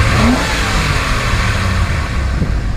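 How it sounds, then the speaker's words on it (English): A 1996 Ford F150 4x4 with a 302 V8, parked outdoors, revs up from idle with a loud, deep rumble that then sustains at a rough, throaty roar, close by and without talking. "I'd rev it up a little bit."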